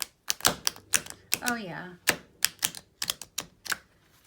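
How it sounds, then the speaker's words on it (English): A Mythical Creatures tarot deck with slightly stiff cards is shuffled by hand in a quick run of sharp, uneven card taps and flicks, close up, with a brief spoken remark in the middle. "Let's give it a little shuffle."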